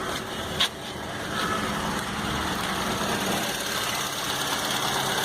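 Steady idle of a Maruti Suzuki SX-4 car engine just after starting following an overhaul, a constant even hum with a brief click near the start and no talking.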